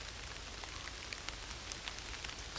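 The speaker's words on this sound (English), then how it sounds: "It's raining a bit right now." Light rain patters steadily on a tarp at a backcountry riverside camp, a soft continuous hiss dotted with faint individual drops, quiet and without voices.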